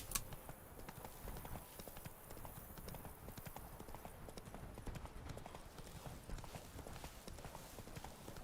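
Roach's hooves in The Witcher 3 clop in a brisk, steady galloping rhythm while riding, continuous and fairly close with a faint voice now and then underneath.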